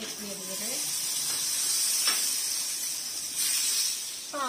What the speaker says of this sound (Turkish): Tavanın altını açtı, ısındı, artık tereyağını ekleyebiliriz